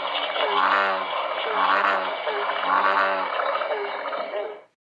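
A bullfrog call, with three or four deep droning, resonant call bursts in a steady rhythm, loud and close, ending abruptly.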